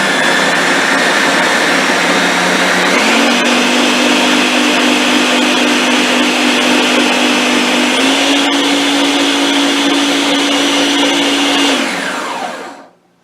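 A blender purees turkey salad with a loud, steady motor whine that steps up in pitch twice, running continuously for about twelve seconds before spinning down to silence.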